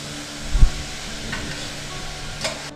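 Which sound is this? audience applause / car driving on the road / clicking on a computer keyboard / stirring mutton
stirring mutton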